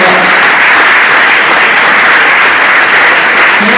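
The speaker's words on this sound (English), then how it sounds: "I want to give you guys a round of applause and wave" Loud, dense applause from a crowd at a Utah congressional campaign kickoff rally, a steady wash of clapping that fills the whole stretch without a break.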